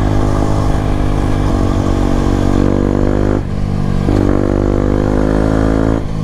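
A loud Aprilia SX 125 motorcycle engine drones close by, its pitch rising and dropping as it shifts through gears, with a rough buzzing exhaust throughout.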